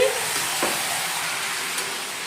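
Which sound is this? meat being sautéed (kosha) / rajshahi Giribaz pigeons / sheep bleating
meat being sautéed (kosha)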